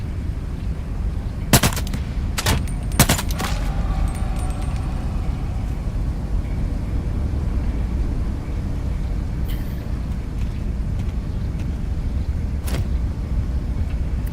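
An AK rifle fires in the VR shooter game Into the Radius 2: a quick cluster of sharp, loud shots early on, then a few isolated cracks later over a steady low rumble of ambient noise.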